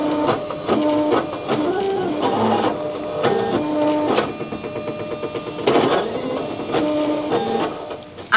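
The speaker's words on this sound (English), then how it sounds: "vinyl loaded into the cutter, so I'm going to go ahead and send my design to cut." A vinyl cutter cutting a design, its carriage motors whining and buzzing in repeated rising and falling strokes with short pauses, steady and close, with no talk.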